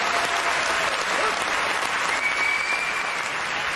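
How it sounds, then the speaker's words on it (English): Studio audience applause for a car that nearly managed to park, a dense, loud and continuous roar of clapping from a large crowd that holds steady throughout. "give the car that nearly did it a round of applause"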